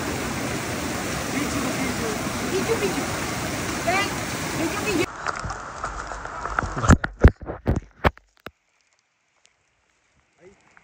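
A waterfall at a river in San Antonio, Zambales roars loud and steady for about five seconds, then cuts to sharp knocks and thuds before falling nearly silent.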